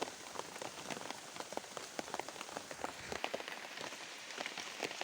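Rain falls during a fishing trip, a dense, steady patter of drops striking the surface, with no one talking.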